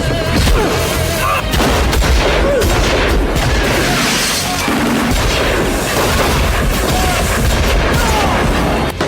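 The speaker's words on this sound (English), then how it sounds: "Hanner's son and a group of hired mercenaries ambush Jack, sparking a fierce gunfight." Gunfire during a fierce movie gunfight in a mine ambush, dense overlapping booming shots and rattling bursts filling the whole stretch, loud and continuous with a cinematic mix.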